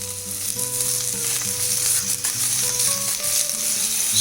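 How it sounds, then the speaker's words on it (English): Shimla Mirch capsicum stir-fries in oil with turmeric and salt, a constant bright sizzle with faint tonal background, loud and close with no talking. "Stir fry nicely for about 5 to 7 minutes"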